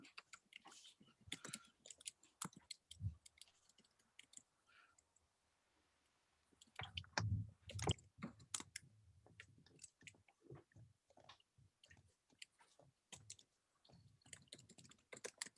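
Rapid, irregular clicking close by, like fingers typing on a keyboard, with bursts and short pauses, a denser, louder stretch midway.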